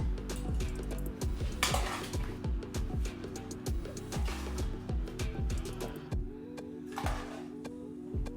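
Clinking and scraping of utensils against a plate and pan as pan-seared salmon and potatoes are plated, a steady run of close, light metallic taps and clatters under quiet background music.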